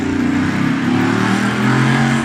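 A car engine revs at close range, its pitch climbing and settling in a loud continuous drone with no talk.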